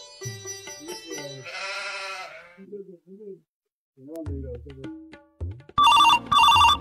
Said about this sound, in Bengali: এই সময় আবার কে ফোন করে গত?